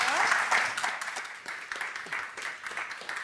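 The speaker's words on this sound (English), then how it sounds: "Can I round of applause, please?" Audience applause at a symposium session fills the room, a dense, steady wash of many hands clapping that gradually tapers off, with a faint voice underneath.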